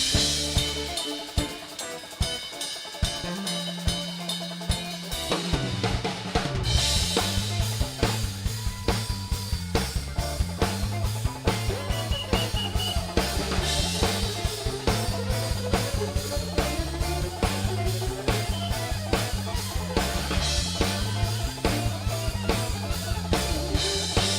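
A fast fiddle line rides over a full band with steady, driving drums and bass, loud and continuous throughout.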